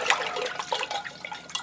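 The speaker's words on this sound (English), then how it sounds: "And we give it a stir." Orchid fertilizer being stirred into water in a bowl, a soft continuous swishing and light sloshing of liquid heard close up, with no talk.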